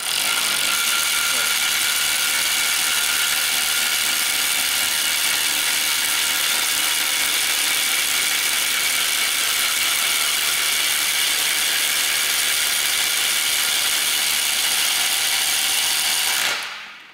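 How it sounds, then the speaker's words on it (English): A hydraulic tire-bending tool for iron wagon tires is closed up and tightened, giving a steady, dense mechanical whirring and grinding that runs loud and unbroken before stopping abruptly at the end. "Now for storage, I like to close the frame"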